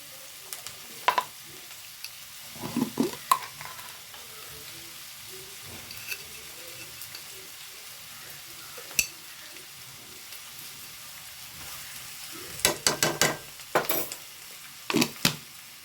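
Chicken pieces fry in a pan for chicken kondattam, salted and stirred, under a steady close sizzle. Intermittent spoon scrapes and knocks sharpen into a busier burst of stirring toward the end, with no talking.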